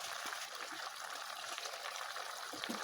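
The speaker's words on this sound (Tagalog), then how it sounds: "Dadagdagan ko ng tubig." Water poured into a cooking pot, a continuous trickling gush of liquid heard close up, steady throughout with a few small splashes.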